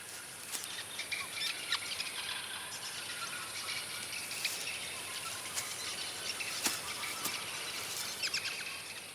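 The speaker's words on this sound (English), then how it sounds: "The twittering seems to come from a single tree, from one giant nest." Many small birds twitter and chirp in a steady busy chorus, with a few sharper calls popping out above the constant high chatter.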